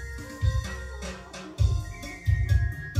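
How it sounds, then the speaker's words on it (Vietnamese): Bass-heavy music playing through a pair of JBL L100 loudspeakers, deep thumping low notes pulsing in bursts beneath a fuller mix, moderately loud with no talking. "Đây, đây là tiếng loa bass của cặp L100."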